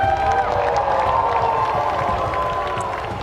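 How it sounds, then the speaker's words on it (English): A crowd at an Apex Legends esports trophy ceremony claps and cheers steadily, a dense wash of applause and whoops filling the whole stretch at close, loud level, with a faint voice over the noise. "Round of applause,"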